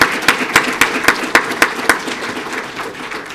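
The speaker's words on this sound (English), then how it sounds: "Give you a round of applause." An audience at a police swearing-in and promotion ceremony gives a short round of applause, distinct claps landing in a fairly regular rhythm before fading out near the end.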